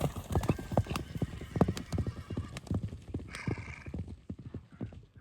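Horse hooves clip-clopping in a quick, uneven rhythm close by, with a short whinny partway through, outdoors in Kyrgyzstan ahead of horse racing.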